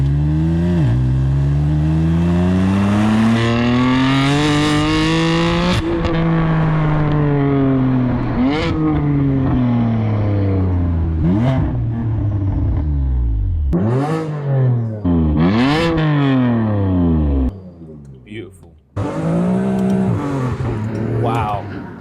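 A BMW F80 M3 with a Scorpion exhaust, valves fully open, revs hard through the range into third gear, the engine note rising and falling in repeated loud sweeps with crackles between shifts.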